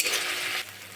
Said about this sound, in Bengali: ভালোভাবে মশলাটা আমি কষে নেব